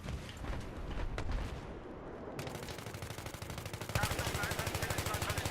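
Automatic gunfire in the video game Battlefield 3, rapid bursts of shots with heavy booms, ending in a steady fast rattle of fire, loud and close.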